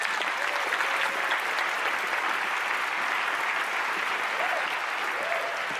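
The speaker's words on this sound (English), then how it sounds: "let's give her a big round of applause" A studio audience on a magic show applauds loudly and continuously as a volunteer is invited onto the stage, the clapping a thick, even roar with some faint voices underneath.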